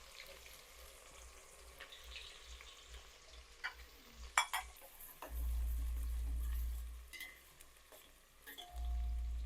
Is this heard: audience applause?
no